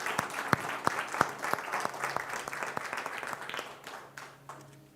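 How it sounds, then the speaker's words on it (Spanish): A church congregation claps in welcome, with sustained applause and sharp individual claps that fade over about five seconds. "Un aplauso a ella de bienvenida."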